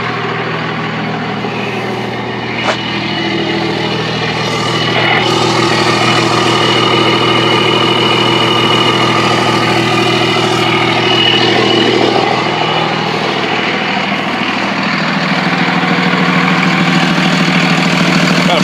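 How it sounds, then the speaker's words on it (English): A 1999 Dodge 2500 diesel truck idles steadily, its exhaust giving a close, continuous low rumble with a faint clattering knock, swelling slightly louder midway and holding there throughout. "The exhaust sounds pretty darn good on it."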